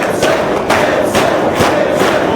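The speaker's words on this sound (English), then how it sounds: "Listen to this crowd encourage Gibson to keep fighting." A wrestling arena crowd roars and cheers continuously, loud and close, with a few heavy thuds landing through the noise during a bloody main-event match.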